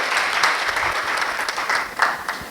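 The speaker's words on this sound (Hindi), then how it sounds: "एक बार फिर से जोरदार तालियां होनी चाहिए, ऐसा मुझे लगता है।" Audience at a poetry recitation event clapping warmly, a continuous burst of applause with a few louder individual claps, no talk.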